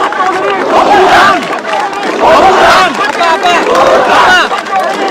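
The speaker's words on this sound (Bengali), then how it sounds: "তারা দেখছেন কঠিন বার্তা দিচ্ছেন, স্লোগান তুলছেন" A crowd of student protesters chanting slogans in unison, loud rhythmic waves of many voices rising and falling in repeated phrases.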